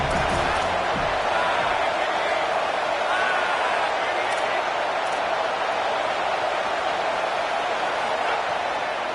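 A football stadium crowd roars on third down, a dense, sustained wall of cheering and noise that stays loud and even throughout, with a few sharp bangs scattered through it.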